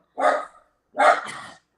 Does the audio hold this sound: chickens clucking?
no